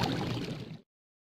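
Water gushes steadily from a garden hose outdoors in a steady broadband rush that runs for under a second and then cuts off abruptly into silence.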